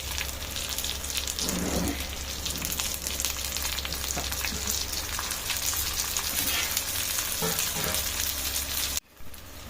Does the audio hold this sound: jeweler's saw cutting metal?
no